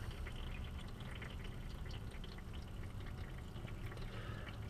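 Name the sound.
fluid draining from a drain pan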